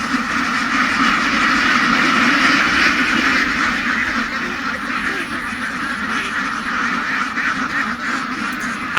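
Newly bought ducks quack steadily throughout on a duck farm raised for egg laying, a dense, continuous flock chorus close by with no pauses.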